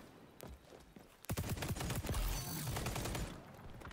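An ACR assault rifle fires in the shooter game XDefiant: quiet footsteps at first, then loud rapid bursts of automatic fire ring out for a couple of seconds and fade.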